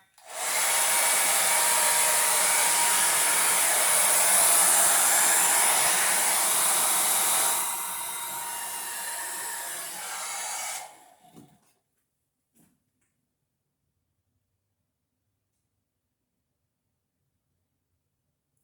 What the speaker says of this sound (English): Now I have my blow dryer plugged up. Let's give it a try.